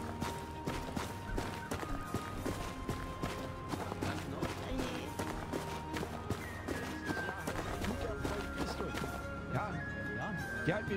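Horse hooves in Rustalot 3, a steady run of rapid clip-clop beats through the whole stretch, set among tonal game music and other noise.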